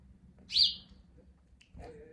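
Sparrows on a windowsill give a single bright chirp, then a softer short call a moment later, close by over a low room hum.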